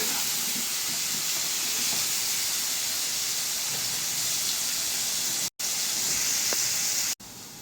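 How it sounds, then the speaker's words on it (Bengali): Potatoes deep-frying in hot oil for a potato and paneer curry give a loud, steady hiss that fills the whole stretch, broken only by two brief dropouts near the end. "এখন আলুগুলো ভেজে নিব লাল লাল করে আলুটা ভেজে নিতে হবে"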